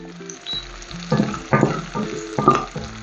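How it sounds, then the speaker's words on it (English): Ginger and garlic go into hot oil and sizzle while being sautéed for restaurant-style shahi paneer, with loud crackling bursts that rise and fall over a few seconds and no voice. "So after this start to sizzle, I'm just going to put this ginger garlic."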